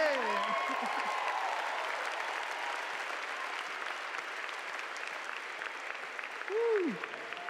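Applause from a conference audience at a Christian event, sustained distant clapping from a large hall, with a brief voice rising over it near the start and again near the end.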